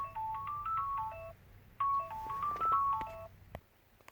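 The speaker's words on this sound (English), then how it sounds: "my phone started ringing" A mobile phone ringtone playing a repeated melodic tone sequence in two bursts inside a Ram pickup during a head unit install, fairly clear and not talked over.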